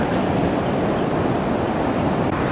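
Ocean surf breaking on a beach along the Oregon coast near Meyers Creek, a steady loud wash of roaring foam and wind noise without a break.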